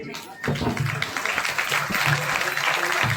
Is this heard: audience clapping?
yes